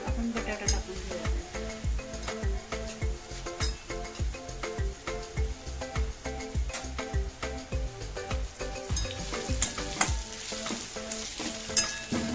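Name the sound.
potatoes added to browned onions frying in a pan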